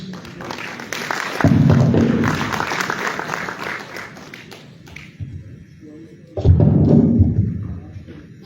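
Two bursts of applause ring out at a medical college convocation in Liberia, a longer round of clapping followed after a lull by a second short, loud round, with a voice speaking between them.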